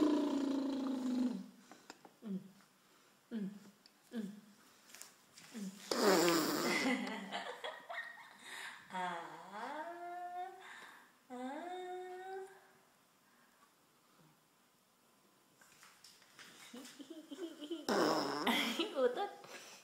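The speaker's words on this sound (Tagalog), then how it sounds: "Umutot ang baby ko." A baby lets out a few short, low, popping farts early on, followed by adults chatting and laughing nearby in a cheerful, playful tone.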